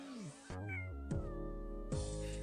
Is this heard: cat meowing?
yes